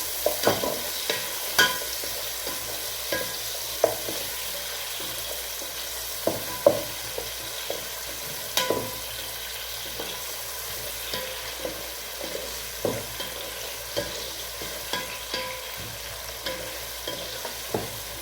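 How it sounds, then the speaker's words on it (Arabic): Two small onions fry in oil with a soft continuous sizzle, punctuated by sharp, scattered clicks and scrapes of stirring against the pot, quiet and close with no talking. "انا هنا حطيت حبه زيت وحطيت ايه، بصلتين صغيرين"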